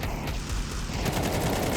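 Rapid gunfire sprays in a Counter-Strike match on the Ancient map, a dense, continuous burst of shots lasting the whole moment, loud and without a break.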